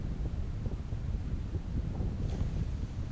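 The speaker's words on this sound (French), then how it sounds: "Petit vent, pas trop frais, un vent du sud" Steady low south wind rumbling against the microphone, a continuous soft buffeting with no other sounds.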